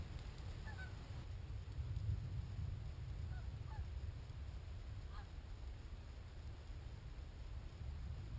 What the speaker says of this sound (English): There's a lot of geese that fly around this area